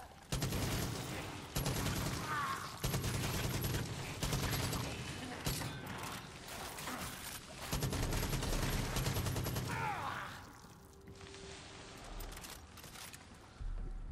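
Gunfire from a gun in the Far Cry 5 zombies game: repeated loud bursts of rapid automatic shots come in several clusters with short pauses between them, then give way to quieter ambience near the end.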